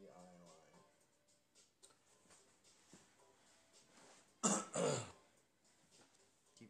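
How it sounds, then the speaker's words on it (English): A quiet room during a life drawing session with faint movement, then a sudden loud, rough throat clearing near the mic, two harsh bursts close together before things settle again. "Keep clearing my throat."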